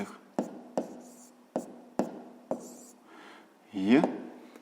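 Pen or pencil taps and strokes on paper come in a string of sharp clicks while an answer to a fifth-grade maths exercise is written out by hand, with a brief scratchy scribble near the end.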